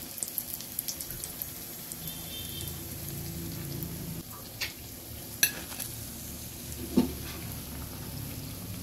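Banana flower cutlets deep-frying in oil give off a low, continuous bubbling sizzle. A few scattered clinks and pops come through it, and one sharp knock stands out.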